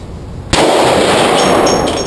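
A gun is fired once, a sudden loud, close blast that cuts through a quiet background and is followed by a long ringing roar as the shot echoes and dies away.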